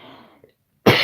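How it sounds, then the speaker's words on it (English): A person with a lingering illness gives a single sharp, loud cough close to the microphone, bursting out abruptly after a brief hush and faint murmuring. "I'm coughing more today than I did yesterday"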